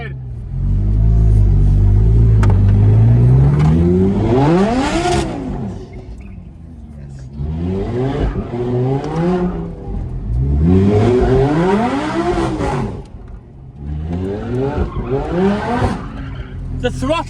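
A supercharged engine in a car accelerates and revs hard and loud, pitch rising and falling in repeated surges with whine and rumble, while people talk alongside.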